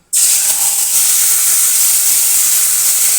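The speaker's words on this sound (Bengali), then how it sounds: "তেলও গরম হয়ে গেছে এখন তেলের পরে আমি মাছগুলো সমস্তটা একে একে ছেড়ে দেবো" Fish hit hot oil in a pan with a sudden loud, sharp sizzle that starts abruptly and holds as a steady, bright hiss close by.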